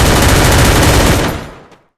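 MP5 submachine gun fired in a first-person shooter video game, a loud rapid burst of automatic shots that stops and dies away into silence.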